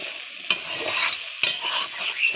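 Spice masala being stirred and fried in a pan, a soft sizzle with two sharp scraping strokes of the spoon against the pan.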